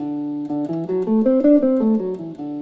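Jazz guitar running a pentatonic scale up from D and back down, single clean notes stepping smoothly one after another in a steady line, close and clear with no talking.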